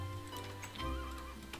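A horse in the video game Minecraft, from the 1.6.4 version, gives a short neigh over a steady background game hum, with faint clip-clop ticks and no speech.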